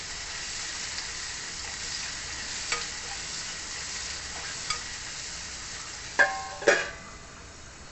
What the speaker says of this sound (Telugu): ఇవి చక్కగా వేగాలండి.